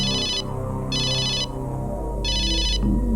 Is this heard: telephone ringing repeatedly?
yes